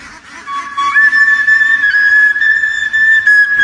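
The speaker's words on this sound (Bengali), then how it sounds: "তার বাঁশির সুরে পিছে পিছে ছুটে যায় হাজার হাজার হাঁস" A duck herder plays a bamboo flute, a loud, clear sustained whistle-like melody holding a few steady notes close by.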